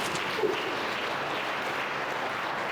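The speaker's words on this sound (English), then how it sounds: "Y'all can clap." A crowd claps at a winter varsity athletic awards ceremony, a steady, fairly soft wash of applause that holds evenly throughout.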